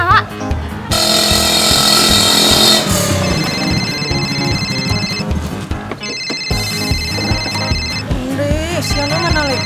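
A telephone rings in repeated electronic bursts with brief gaps, loud and close, over background household noise and voices.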